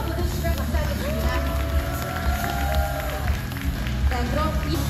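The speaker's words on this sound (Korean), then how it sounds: "박수 한번 보내주시면 감사하겠습니다." Applause and cheering fill a crowded bodybuilding competition hall after a competitor is announced, steady and dense for the full stretch, with crowd babble and a voice rising above it.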